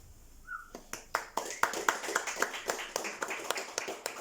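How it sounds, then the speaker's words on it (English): Scattered audience clapping at a live poetry reading in Edinburgh, a sparse run of separate, fairly close claps with uneven rhythm, brief and light rather than sustained applause. "No one ever knows whether they should clap between poems or not."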